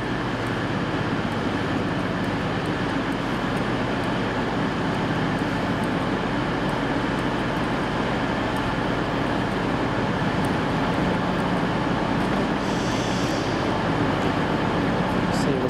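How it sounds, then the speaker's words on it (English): A steady, loud rumble of a train arriving at a station in South Yorkshire fills the scene, with a constant low roar and faint voices talking under it. "Here comes our train."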